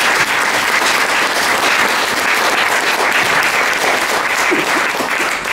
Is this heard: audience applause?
yes